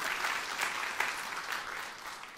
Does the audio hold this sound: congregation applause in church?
yes